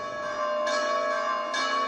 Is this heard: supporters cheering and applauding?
no